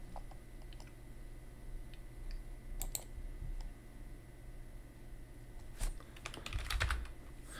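Typing on a computer keyboard: a run of quiet, uneven key clicks that turns into a denser burst of taps near the end, heard close up over a faint background hum, with no talking.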